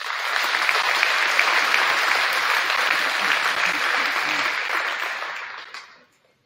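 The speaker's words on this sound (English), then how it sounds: "Please give them a round of applause." Audience applause at a school awards night for grades 7-12 in Amherst, a dense steady wash of many hands clapping for about six seconds before fading out.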